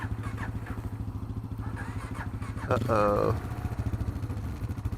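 A Kawasaki KLR650 motorcycle engine idles roughly with a steady low thumping pulse, swelling briefly in a strained, uneven burst before settling back to its chugging rhythm; a voice briefly speaks over it.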